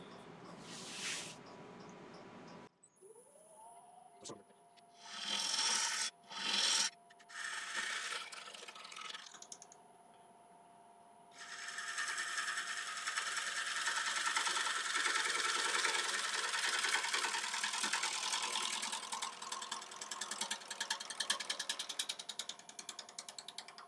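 A wood lathe trues up the face of a natural live edge winged bowl, its motor humming steadily while the gouge bites in short intermittent bursts and then cuts in a long, continuous rough rasp.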